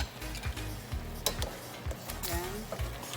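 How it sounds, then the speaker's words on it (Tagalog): Kapampangan pork menudo boiling in a pot is stirred with a utensil: soft, quiet scrapes and light clinks against the pot come in an irregular rhythm over a faint bubbling background. "Ngayon po kumukulo na siya, pwede na natin siyang haluin."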